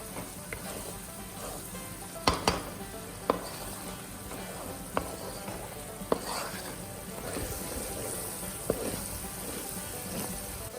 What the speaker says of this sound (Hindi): लहसुन को हमने अच्छी तरह भूनना है ताकि उसका कच्चापन बिल्कुल ना आए चिकन में